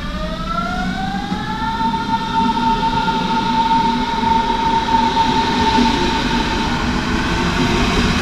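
A Berlin S-Bahn train arrives at a platform, its rising electric motor whine settling into a steady tone over loud rolling rumble, with no voices.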